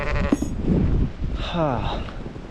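Sheep bleat on a livestock farm with cows and pigs in a snowy April setting, several wavering calls rising and falling close to the microphone over steady wind noise.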